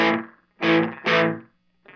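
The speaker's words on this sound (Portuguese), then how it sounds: "Desse efeito quase meio robótico no timbre da guitarra" Electric guitar run through a Llama Jam delay pedal, giving a slightly robotic timbre with a short reverb: three sustained strummed chords ringing out, then a brief fourth onset, loud and close with no talking.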